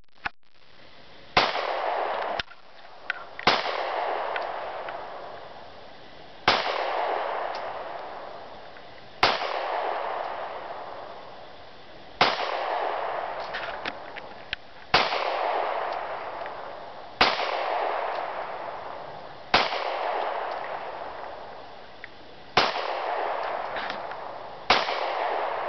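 About ten sharp, loud pistol shots from a Glock 22 and a Taurus 24/7, both .40 caliber, fired at an outdoor range about 20 yards from the target. Shots come singly at irregular intervals of one to three seconds, and each is followed by a brief echoing decay.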